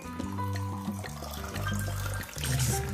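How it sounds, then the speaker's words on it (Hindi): Water poured into a drinking glass, a close gurgling, tonal fill that rises in pitch with a few surges and pauses, fairly loud and alone. "ग्लास में पानी लेंगे हम"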